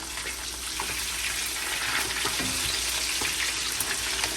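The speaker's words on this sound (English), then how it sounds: "Remember, you're frying these for 8 minutes." Steady, dense sizzling and crackling of fish frying in hot oil for Jamaican escovitch fish, close and continuous throughout.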